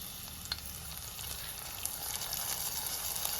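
A hot curry leaf tempering is poured over Kerala-style raisin pachadi, setting off a soft, even sizzle with faint crackles that holds steady for a few seconds.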